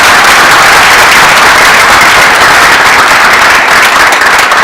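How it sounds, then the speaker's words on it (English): A loud, dense round of applause from an audience after a guest speaker's talk, continuous clapping at steady intensity throughout. "Dr. Wale, give me one more round of applause, please"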